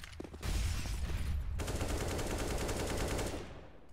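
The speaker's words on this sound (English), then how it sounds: "Keeve going for his trusty wallbang." Sustained automatic gunfire in Counter-Strike on the Cache map, fired through a wall, a dense rapid burst lasting a few seconds with a brief pause before a second longer volley.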